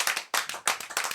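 Studio audience on a French weekly broadcast show clapping in short rhythmic bursts, several hands striking together up close, loud and unaccompanied by talk.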